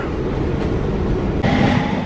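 Train at Blackfriars Station in London, a loud steady rumble of rolling carriages with a brief shift partway through, no voices.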